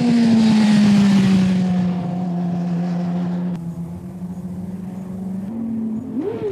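A motorcycle engine holds a steady high rev that drops and shifts in pitch through downshifts, then blips briefly upward near the end, loud and close with no talking.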